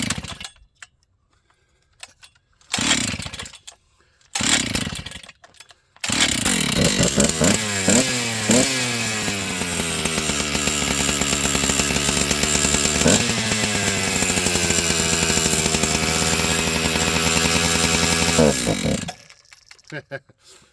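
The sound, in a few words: Husqvarna 268XP chainsaw running with new NGK spark plug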